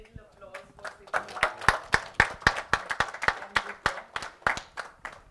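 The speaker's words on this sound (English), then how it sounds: "Can I ask for a little applause" A modest audience at a technical session on women's microfinance claps, the applause starting sparse and growing into distinct, fairly sharp hand claps in a loose rhythm, a few standing out near and loud.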